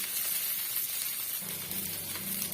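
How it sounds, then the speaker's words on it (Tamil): Curry leaves sautéing in hot oil until crisp for a curry-leaf pickle, a continuous bright hiss and sizzle with a low rumble entering near the end, close and steady. "இன்னும் வந்து நல்லா மொறு மொறுன்னு ஆகிற வரைக்கும் நம்ம வதக்கி விட்டுக்கலாம்"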